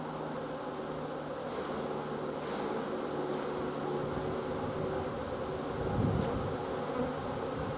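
Honeybees buzz at an open hive during hive work: a dense, continuous drone of many wings that stays close and steady throughout, with a slightly louder pass near the end.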